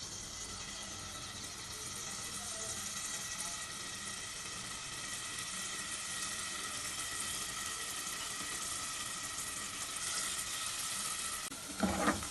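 Small chopped onions sizzle steadily in hot oil in a pan, turning light brown; a continuous close crackle fills the whole stretch, with a brief clatter of stirring near the end.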